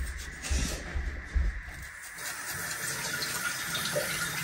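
Tap water runs steadily into a sink while something is rinsed beneath it, with a few louder splashes and clunks early on, all close and moderately loud with no talking.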